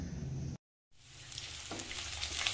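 Onions frying in oil for a Sunday mutton dish, a steady close sizzle that breaks off for a moment and then returns, building a little louder with brighter crackles.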